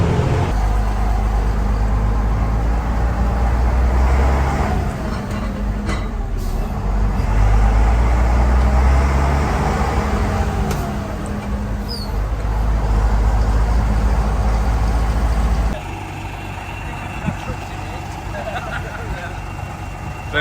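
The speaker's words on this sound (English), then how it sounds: "Bus has started up, no problem." Old bus engine running steadily for the whole stretch, a loud, continuous low rumble that drops slightly in level toward the end, with no talk over it.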